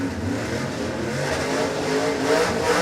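A Camaro drag car engine at Warwick Dragway, a loud close rumbling idle that rises into revving toward the end, continuous with no talk.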